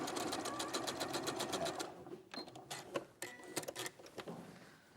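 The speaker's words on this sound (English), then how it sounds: "Right, so you sew down." A sewing machine stitches a Kaffe Fassett floral maze quilt, running in a fast, steady mechanical patter for about two seconds before breaking into short, intermittent bursts with clicks and faint background talk.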